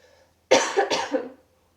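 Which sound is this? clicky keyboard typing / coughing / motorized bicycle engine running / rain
coughing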